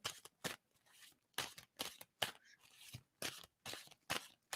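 Tarot cards being shuffled by hand in repeated quick riffling bursts, close and quiet, with short pauses between each pass.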